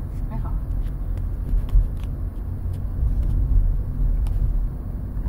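Steady low engine rumble and road noise from inside a moving car, continuous and fairly loud throughout with slight swells, with no clear voices over it.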